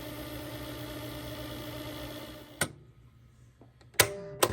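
A 1982 GE 3-6015A mono boombox rewinds a cassette tape with a steady, strong motor whir for over two seconds. It then stops with a sharp mechanical clunk, and a few more clicks from the transport follow.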